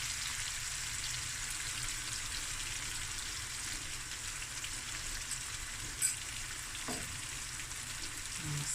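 Onions fry in a pot with turmeric added, producing a steady, moderately loud sizzle and hiss, broken by a faint clink or stir near the end, with no voices.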